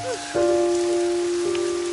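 Cartoon rain pours in a steady soft hiss under a sustained droning musical tone through a sombre Bengali horror-story scene.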